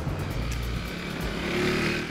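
A KTM Duke motorcycle engine pulls hard out of corners, a throaty rising drone heard close from the rider's position, with wind noise over it and no talking.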